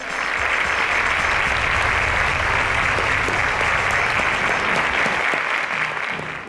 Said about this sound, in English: Ladies and gentlemen, please a round of applause to Abolude, Great, and Aliyah